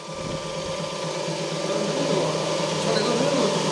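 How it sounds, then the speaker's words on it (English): The vacuum pump on a lubricant oil filtration unit runs with a loud, steady whirring drone that swells slightly as it gets going, heard close up over machinery noise. "Vacuum pump start."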